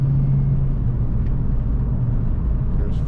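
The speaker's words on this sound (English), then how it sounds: "That was about 3/4 throttle acceleration" A 1989 Ford Mustang engine pulls at about three-quarter throttle, giving a steady, deep, close rumble with no talking over it.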